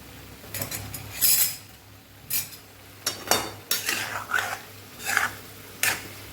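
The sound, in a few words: stirring spiced garlic potatoes in a pan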